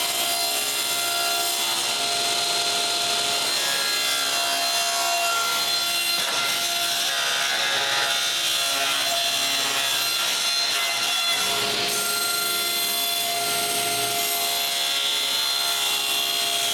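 Plywood being sawn for the lid of a wooden band saw, a loud continuous whining saw noise with a steady grinding rasp, close by and without talk.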